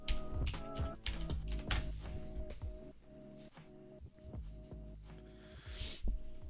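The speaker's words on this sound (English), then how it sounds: "So go ahead and type Gazebo in the console." Someone types on a computer keyboard nearby, producing fast irregular clicks and clacks in short flurries with small gaps, fairly quiet and without speech.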